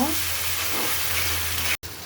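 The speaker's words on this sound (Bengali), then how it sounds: "রসুন বাটা তার সাথে দিয়ে দিলাম পেঁয়াজ বাটা মশলাটা একটু ভাজা ভাজা হোক" Garlic paste and onion paste spices fry in a pan with a loud, even sizzle and a constant crackling hiss, cut off by a brief silent gap just before the end.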